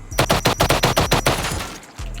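Rapid bursts of gunfire sound in a survival video game, about a dozen sharp shots in quick rhythm that stop after under two seconds and are followed by quieter background.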